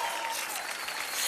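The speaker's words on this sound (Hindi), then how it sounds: "जोरदार तालियां रानी जी के लिए।" A crowd claps loudly and steadily as a guest named Rani is welcomed onto a comedy stage, a dense unbroken burst of applause.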